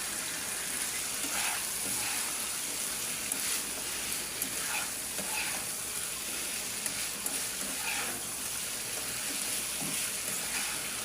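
Small fish fry in a pan with yardlong beans, giving a steady, close sizzle throughout, with soft scraping stirs breaking through every second or two. No one speaks.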